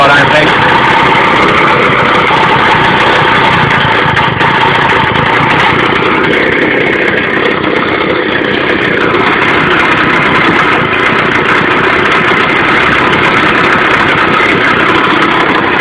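A 160cc Victa lawnmower engine fitted to a go-kart, idling slightly raised, with a loud, continuous, buzzing putter close by that holds steady for the whole stretch with small shifts in tone.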